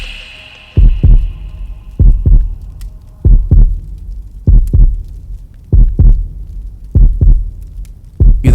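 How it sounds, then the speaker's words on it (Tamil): A loud, close heartbeat thumps in regular paired beats, lub-dub after lub-dub, about once per second over a faint hum, with no voices. "உன் இதய துடிப்பு, உன் ஹார்ட் பீட்"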